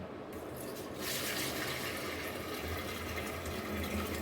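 Raw liquid pours into a butter churn while butter is being made, a continuous close splashing that swells and grows fuller after the first second and carries on steadily without any talk.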